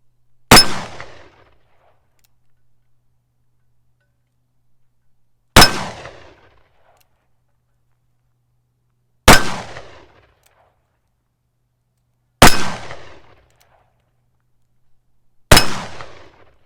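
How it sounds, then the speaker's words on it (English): Five loud, sharp shots from a Colt Walker revolver, fired one at a time at steady intervals of about three to four seconds. Each crack rings out briefly before dying away, with quiet between shots and no talking. "why don't we go fire 5 shots with the Colt Walker?"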